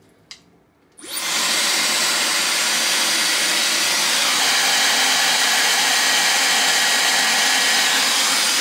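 After a brief click, a Dyson Supersonic hair dryer switches on and runs loudly and steadily on high heat and high speed, with a strong airy whoosh and motor whine.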